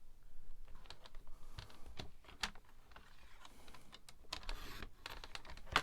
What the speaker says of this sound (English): then I'm going to flip it round and then cut it down this way